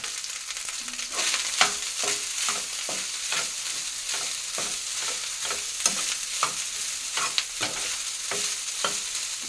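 Food frying in a pan crackles with a steady sizzle while a spatula stirs it, giving repeated scraping strokes in an uneven rhythm, close and clear with no talking.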